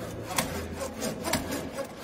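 Makita saw cutting through wood, a continuous rasping, rubbing stroke sound with a couple of sharper knocks, steady and close with no talking.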